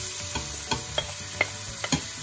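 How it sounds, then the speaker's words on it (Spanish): Chopped onion frying in oil with minced garlic, giving a continuous sizzle under a series of light scraping stir strokes and a few small taps, close and unaccompanied by speech. "incorporamos la cebolla troceada"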